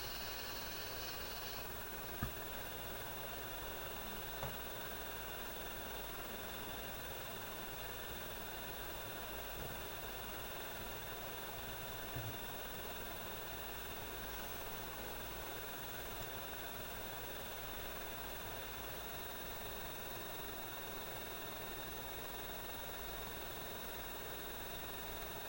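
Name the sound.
Roborock H6 stick vacuum motor running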